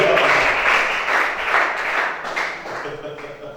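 Congregation at a Gabonese church service breaking into acclaim and applause, a dense wash of clapping and crowd noise that is loud at first and slowly tapers off, with voices mixed in.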